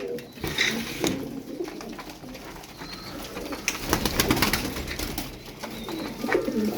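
Iraqi feather-footed play pigeons coo in soft, repeated throaty rolls, close by and moderately loud. Several bursts overlap and are joined by faint rustling, with no talking.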